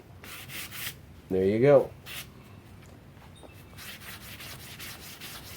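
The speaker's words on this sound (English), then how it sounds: "then you just take your sandpaper" Sandpaper rubbed over a painted wooden coffee table in a shabby chic finish, giving short rhythmic scratchy strokes close by, with a person speaking briefly in the middle.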